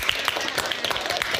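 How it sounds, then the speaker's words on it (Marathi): Students in a school classroom game applaud for Soham's group, a dense, steady patter of many hands clapping at once, close and fairly loud, with no voices over it. "टाळ्या वाजवा मग सोहम दादाच्या ग्रुपसाठी."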